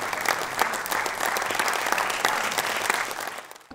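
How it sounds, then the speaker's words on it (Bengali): Steady, dense audience applause fills a debate festival hall, many hands clapping loudly and continuously before fading at the very end. "আমরা সবাই করতালির মাধ্যমে অংশগ্রহণকারী সবাইকে উৎসাহ জানাবো।"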